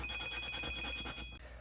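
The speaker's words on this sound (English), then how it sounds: "Okay, so I got a phone call" Phone ringtone for an incoming call, a faint repeating electronic ring with a bright high tone pulsing in quick regular bursts before stopping abruptly.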